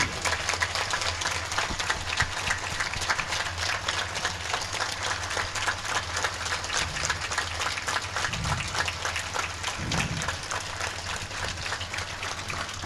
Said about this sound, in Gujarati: આપ સૌ બંને હાથ ઊંચો કરી ગડગડાટ તાળીઓથી સ્વાગત કરો.